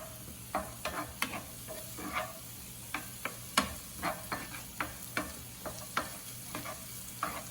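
Food frying in a pan is stirred for brunch, with a quiet steady sizzle under repeated sharp scraping and clacking strokes of the utensil against the pan at an irregular rhythm.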